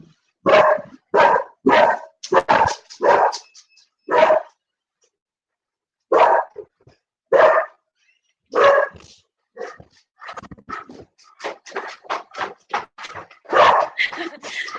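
A house dog barks loudly and close as visitors arrive, in quick bursts of sharp barks. After a short pause it starts again with a longer run of barks and yips.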